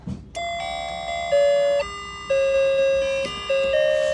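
An antique clock chimes a slow melodic sequence of clear, ringing tones that sustain and overlap, loud and close with no talking.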